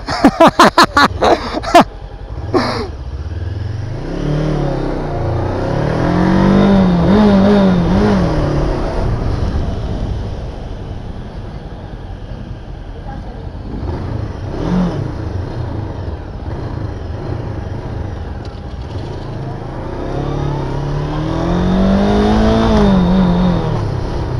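An MBP 502 naked motorcycle rides in second gear, its engine note rising and falling in long swells of acceleration with a few sharp clicks at the start, close and loud.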